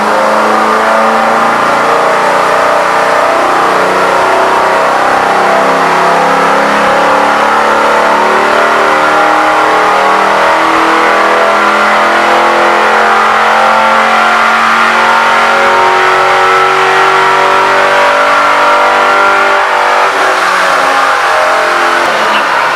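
A car with a louder aftermarket exhaust revs hard on a dyno in a shop, a loud sustained roar that climbs steadily in pitch for over twenty seconds before easing off at the end.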